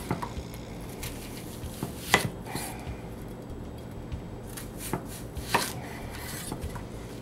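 A knife chops an onion into half-inch pieces on a board, giving irregular close taps with a few sharper knocks and quiet pauses between, no talking.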